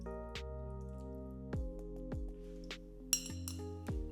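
Cooked adzuki beans pressed through a sieve for Japanese anko give several soft metallic clinks and taps, with faint dripping, over a steady low background hum.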